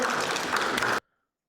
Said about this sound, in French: Allez, on applaudit quand même.